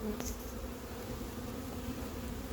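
A swarm of honeybees on cardboard during hiving, a dense continuous buzzing hum, close and steady, with no voices over it.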